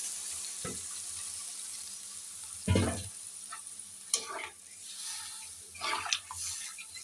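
Water is poured into a pan of frying shingi fish and spices to make a thin curry, with short splashing bursts over a soft ongoing sizzle and no talk.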